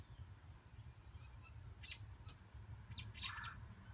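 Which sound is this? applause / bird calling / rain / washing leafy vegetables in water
bird calling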